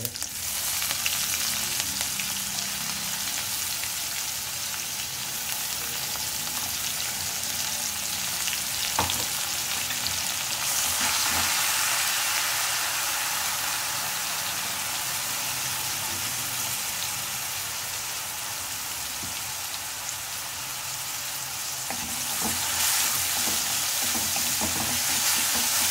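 Chopped onions with ginger and garlic crackle and sizzle steadily in a hot pan, a dense hiss like rain that swells slightly at times, heard up close without talking.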